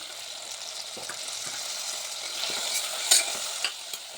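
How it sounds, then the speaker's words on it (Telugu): Green chillies and turmeric fry in a pan while being stirred, soft irregular scrapes and taps over a gentle, steady sizzle, heard up close and quiet without any speech. "దానిని ఒకసారి కలుపుకుందాం"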